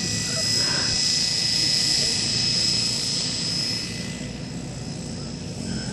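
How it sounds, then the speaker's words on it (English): An X-Cell Fury Ion electric RC helicopter flying outdoors at a flying field, its steady high rotor and motor whine holding loud and constant, easing slightly in the second half. "This helicopter is fully 3D capable in the hands of a better pilot than Jason."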